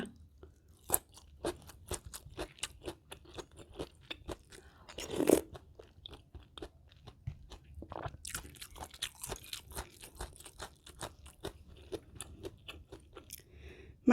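Someone eats Thai pork curry with fresh dill alongside soft fried pork, making repeated close crunchy bites and wet chewing with brief pauses. One louder crunch stands out near the middle, and no one speaks.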